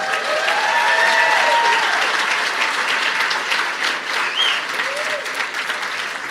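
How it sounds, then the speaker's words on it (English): A comedy club audience bursts into steady, loud applause for educators, a dense wash of clapping hands that holds for several seconds with faint cheers mixed in. "Clap for all these educators."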